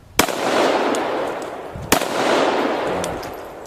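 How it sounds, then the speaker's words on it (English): Two sharp, loud gunshots from a pistol fired at a can outdoors, spaced nearly two seconds apart, each followed by a long rolling echo. "I'm going to shoot at the, let's shoot that can"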